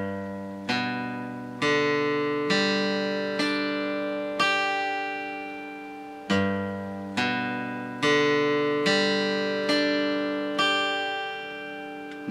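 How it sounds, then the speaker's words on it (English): Guitar played with alternate up-and-down picking, a steady series of plucked notes with sharp attacks and ringing decay, heard alone and close. "So it should sound like this, up and down picking."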